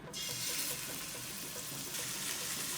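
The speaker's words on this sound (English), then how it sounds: "Let's sear the meat. I'm taking 2 tablespoons of ghee. Pan is hot now." Lamb searing in hot ghee in a pan, a steady close sizzle that holds evenly from start to finish with no talking.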